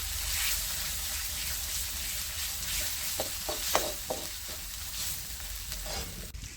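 Masala fries in oil with curry leaves, a steady close sizzle broken midway by several soft stirring scrapes and bubbling pops, with no voices.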